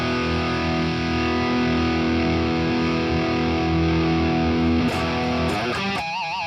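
Sustained distorted electric guitar lead tone through a custom amp plugin, a thick held note with rich harmonics that ends in a few quick bends and wavering vibrato-like tails.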